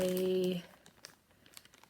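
A plastic bag holding yarn crinkles in soft, scattered rustles just after a brief, steady tone at the start.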